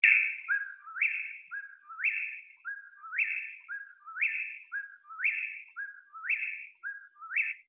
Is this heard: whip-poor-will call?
yes